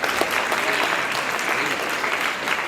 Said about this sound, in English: Please, can you guys clap for yourselves?